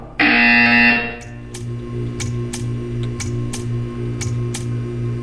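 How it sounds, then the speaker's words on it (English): A loud, steady electronic buzzer blares for about a second in the game Portal 2, then cuts off, leaving a low hum with a series of faint, regular ticks. "When you hear the buzzer, stare at the art."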